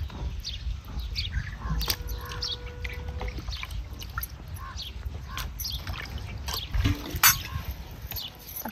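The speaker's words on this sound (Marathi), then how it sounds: "दोन पाण्याने घ्यायचे आपल्याला धुवून।" Raw chicken pieces being washed by hand in water in a home kitchen, with steady sloshing, splashing and dripping that rises and falls throughout, close and fairly soft, with no talk.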